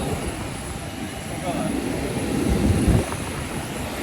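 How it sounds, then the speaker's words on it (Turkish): A steady low engine drone of aircraft engines running nearby, swelling slightly toward the end before easing off. "Sesi duyuyorsunuz motorlardan."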